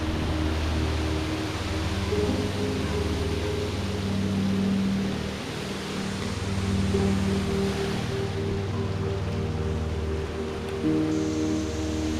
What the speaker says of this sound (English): Right next to the waterfall. Right next to the Greeter Falls itself.